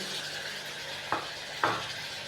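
A large, finely chopped tomato goes into frying ginger-garlic paste for spiced potato slices: a soft, steady background sizzle broken by two brief, sharp scraping clicks about half a second apart.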